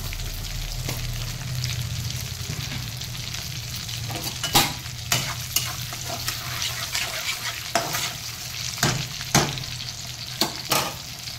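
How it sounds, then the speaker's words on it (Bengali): Cumin seeds and dried red chili tempering in hot oil for a Bengali fish curry, giving a steady close sizzle with scattered sharp pops and spatters throughout. "আর এই জিরে একটুখানি ফোড়ন দেবো, কোনো গুঁড়ো মশলা দেবো না।"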